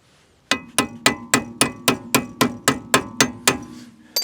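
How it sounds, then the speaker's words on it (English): Hammer striking a stubborn wheel arm on an Audi 200, twelve loud metallic blows in a steady, even rhythm close up, ringing briefly after each hit, with no talking. "hammer it a little bit more."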